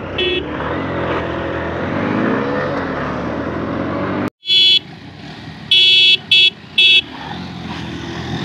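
Honda X-Blade BS4 and Honda Hornet BS4 motorcycles in a drag race, steady loud engine roar for about four seconds, then a brief cutoff followed by several sharp horn-like toots over continued engine noise.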